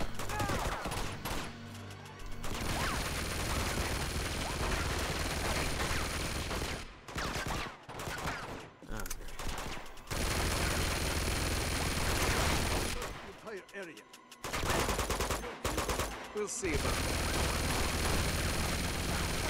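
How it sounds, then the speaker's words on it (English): Gunfire in the video game Uncharted 2: Among Thieves, dense sustained bursts of shooting broken by a few short pauses, with a player talking over parts of it. "Can they stop shooting at me?"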